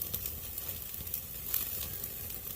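Strip steak sizzles on an indoor grill, a steady close crackling hiss with small pops throughout and a brief louder flare midway.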